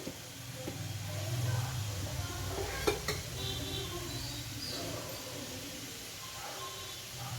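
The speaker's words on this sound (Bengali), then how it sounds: "একটু করে এইভাবে নাড়িয়ে দেবেন।" Gathiya sticks sizzle in hot oil while a utensil stirs them in the pan, producing a steady close frying hiss with a soft scrape or clink near the middle and no talking.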